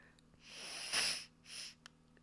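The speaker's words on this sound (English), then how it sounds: "my nose is like sniffling so badly as well" A congested nose sniffles and snorts close to the mic, one long wet inhale swelling to a peak followed by a shorter second sniff and a small click, with no talking over it.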